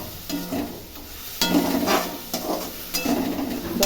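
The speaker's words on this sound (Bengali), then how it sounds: "এবার এটাকে ভালো করে কষবো" Tomato paste with turmeric being sautéed in a little oil, stirred in repeated scraping strokes over a soft, steady sizzle, close and fairly quiet.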